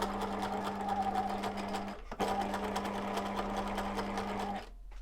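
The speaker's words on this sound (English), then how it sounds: "you'll notice I reversed over it again just to make sure that it's secure." A sewing machine runs steadily, stitching elastic onto a fabric face covering and reversing over it, with a brief pause near two seconds before the whirring resumes and then stops near the end; no talking.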